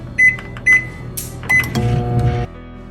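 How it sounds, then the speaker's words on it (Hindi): Microwave oven running with a pizza inside, a steady low hum broken by several sharp keypad beeps and clicks, ending with the motor whir settling into a quieter tone. "अब मैं इसको माइक्रोवेव में रख दूँगी"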